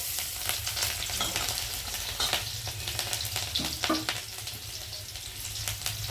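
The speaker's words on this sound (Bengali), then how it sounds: "তেলের মধ্যে আমি এখন দিয়ে দেবো রসুন কুচি, লঙ্কা কুচি" Steady, dense sizzling of chopped garlic and chili frying in hot oil, with occasional scrapes and clinks of stirring, close and continuous throughout.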